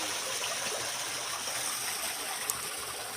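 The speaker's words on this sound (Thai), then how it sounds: "เป็นน้ำไหลออกมา" Water flows in a stream at a creek in rural Thailand, a steady, even rushing hiss heard alone, with one faint click near the end.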